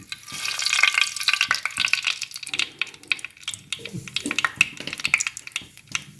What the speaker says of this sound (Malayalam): കടുക് നന്നായിട്ട് പൊട്ടിയിട്ടുണ്ട്